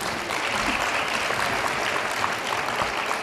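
Steady, dense clapping from a forum audience at a child labour event, continuous and even for a few seconds with no break.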